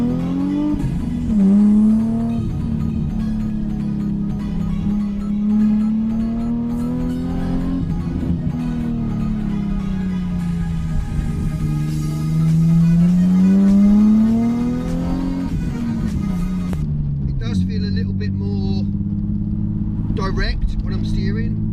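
Nissan 350Z fitted with adjustable drop links driven briskly along twisty A-roads: a steady engine drone rising and falling through revs and gear changes, with someone talking over it throughout.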